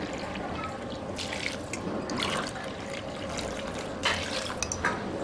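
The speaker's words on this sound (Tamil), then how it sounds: "இதில் 1 டம்ளர் அரிசி எடுத்ததுனால 2 டம்ளர் தண்ணி ஊற்றிக்கிறேன்." Water poured into uncooked rice in a vessel for meal maker soya chunk biryani, giving a continuous close splashing rush with brief bursts of trickling and gurgling.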